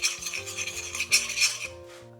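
A spoon scrapes and swirls in a pot, dissolving a fish stock cube in a little hot water, with short rhythmic rubbing strokes close by over quiet background music.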